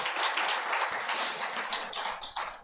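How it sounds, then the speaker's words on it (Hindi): Loud applause from an audience at a devotional discourse gathering, with dense, continuous clapping that fills the clip from start to end and stays close and strong, with no talking over it. "जोरदार ताली"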